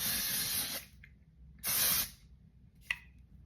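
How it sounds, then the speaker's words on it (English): A glitter skin spray hisses in two steady bursts of about a second each, close to the mic, followed by a brief short puff. "I think I was a little too close when I sprayed that."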